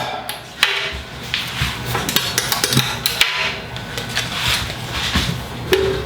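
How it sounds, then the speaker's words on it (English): Plastic lid being pried off a wine fermenting bucket, giving a series of sharp clicks, knocks and small snaps close by with no talking. "Go ahead and pop the lid off."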